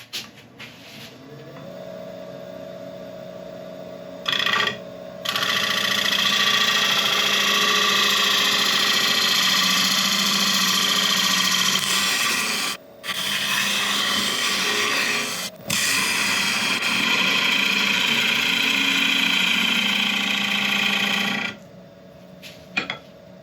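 A wood lathe hums as a ProComfort dovetail tool cuts a tenon, the scraping cut rising and dropping in several sustained passes between short pauses.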